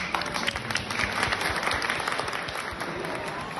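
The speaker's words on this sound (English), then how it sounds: "I think we'll have to go round of applause." A room full of people breaks into steady, dense applause at a podcast taping, many hands clapping together at close range, with voices faintly mixed in underneath.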